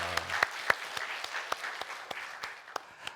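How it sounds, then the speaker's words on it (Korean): A church congregation claps for its Zion choir during a Sunday service, sparse individual claps ringing out over a softer bed of applause. "우리 다시 한번 박수로 격려하겠습니다"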